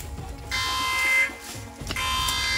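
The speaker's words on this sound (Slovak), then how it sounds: "Do frasa zapal sa alarm." An electronic alarm in a jungle prison blares in steady buzzing bursts, loud and close, with a brief dip in the middle before it resumes at full strength, no voices over it.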